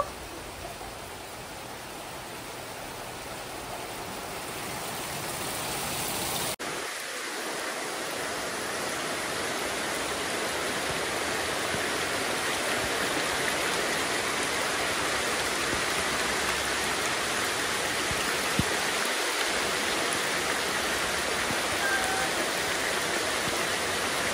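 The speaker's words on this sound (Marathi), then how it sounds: "पाऊस पडता शिंगू." Monsoon rain pours steadily outdoors in Konkan, Sindhudurg, a dense continuous hiss that swells slightly and holds loud and close for the whole stretch, with no voices.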